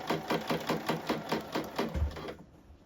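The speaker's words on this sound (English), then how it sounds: "I'm stitching 5/8 of an inch from the edge of the fabric." A sewing machine stitches blazer lining fabric in a quick run of about eight rhythmic mechanical bursts, close and clear, then stops and fades to quiet.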